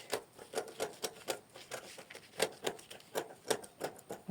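Scissors snip through a paper corset pattern while cutting a dart, producing a quick series of close, crisp clicks in an uneven rhythm.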